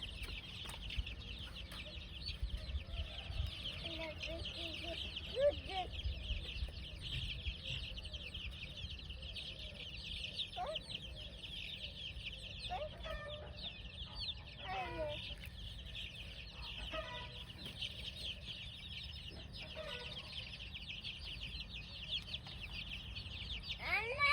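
Soft clucking and peeping from chicks drinking water comes and goes over a steady background hum, with faint voices in the distance.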